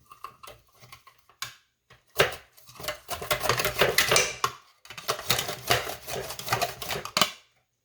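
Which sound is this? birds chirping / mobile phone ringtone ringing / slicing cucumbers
slicing cucumbers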